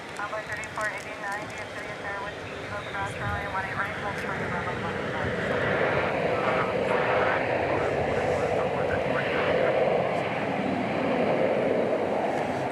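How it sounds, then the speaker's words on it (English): A jet airliner takes off at DFW Airport at night, a distant roar building into a loud, sustained rushing drone, with talking heard over the start. "plane just left for San Jose"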